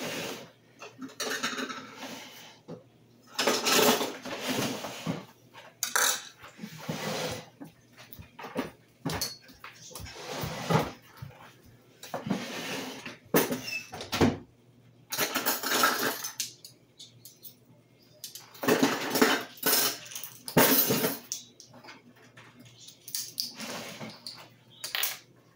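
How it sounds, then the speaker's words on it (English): Peanut butter and margarine are measured out with a cup and spoon in a home kitchen, bringing irregular clinks, taps and scraping of utensils against containers, close by and in bursts with short quiet gaps. "So let me measure out 1/2 cup of peanut butter and 3 tablespoons of margarine."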